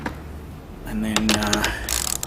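A ratchet tightening the fasteners on towing mirrors being fitted to a Mitsubishi Pajero: a quick run of close mechanical clicks and turns in the middle, surrounded by light handling noise.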